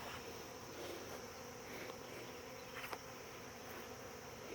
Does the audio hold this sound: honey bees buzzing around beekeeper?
yes